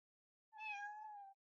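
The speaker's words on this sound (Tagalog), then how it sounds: "Meow meow." Cat meowing: one clear, drawn-out meow, fairly faint, standing alone in silence and lasting just under a second.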